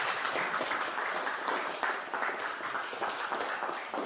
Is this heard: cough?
no